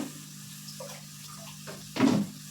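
Water is poured into a pan of onions frying for upma, giving a short hissing splash near the end after a quiet, low hum.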